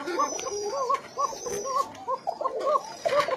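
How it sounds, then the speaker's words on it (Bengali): A red Koka pigeon with a thin-pitched call coos repeatedly in short, rhythmic bursts, close and clear, with faint background noise. "আমি এখন দেখাচ্ছি চিকন ডাকের লাল একটা কোকা কবুতর"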